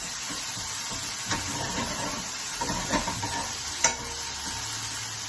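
Ingredients for a Neapolitan pasta sauce fry in a pan with a soft, steady sizzle and hiss, broken by a few light stirring scrapes and one sharper clink, fairly quiet and with no talking.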